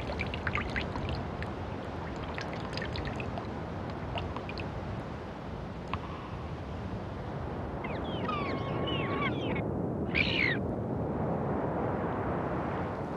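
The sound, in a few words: dripping Arctic meltwater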